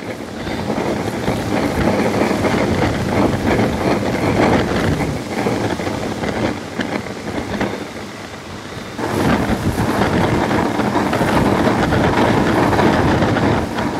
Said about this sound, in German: Richtig heftiger Wind.